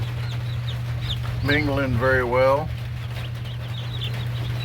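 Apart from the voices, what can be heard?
chickens clucking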